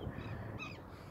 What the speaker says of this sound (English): there's still a bunch of birds around